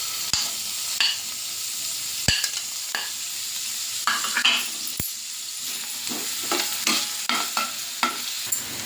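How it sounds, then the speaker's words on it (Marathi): Finely chopped onion fries in oil for matar kheema, with a continuous close sizzle broken by sharp utensil taps and scraping stirs against the pan. "मध्ये आपण तेल घालून घेऊया। झाल्यानंतर त्यामध्ये आपण जो बारीक कट करून कांदा घेतलेला तो घालूया।"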